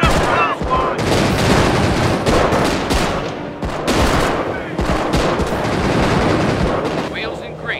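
Dense, loud machine gun and rifle fire crackles continuously through a Company of Heroes Blitzkrieg mod battle with American forces among ruins, rapid bursts overlapping with occasional heavier booms, while voices call out underneath.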